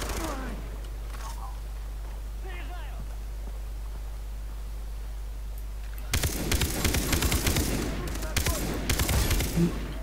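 Quiet room hum for several seconds, then a sudden burst of rapid, dense machine-gun fire in Far Cry 3 multiplayer, loud and continuous to the end.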